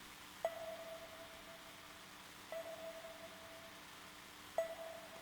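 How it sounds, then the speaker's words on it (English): Three short sonar-style synth bleeps from a song, each a clean pitched ping with a trailing echo, spaced about two seconds apart like a slow heartbeat over a faint hiss. "That kind of sonar style bleep that to me just has so much character"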